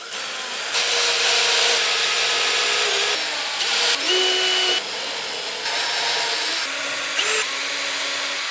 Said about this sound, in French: je vous invite à réaliser des préperçages au milieu